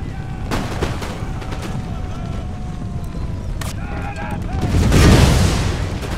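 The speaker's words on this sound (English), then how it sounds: "Look at that shrapnel just pop up from these grenades" Battle in Empire: Total War with grenades bursting and musket fire crackling, steady rolling combat noise that swells into a louder blast near the end, with a voice talking over it.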